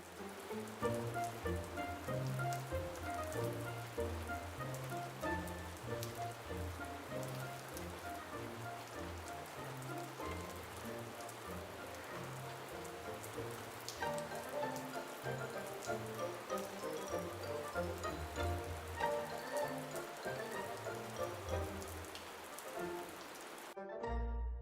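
Steady rain patters on the roof of a camper trailer, a dense, even drumming with scattered drips that runs without a break and stops abruptly at the end.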